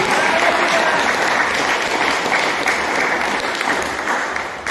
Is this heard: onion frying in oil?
no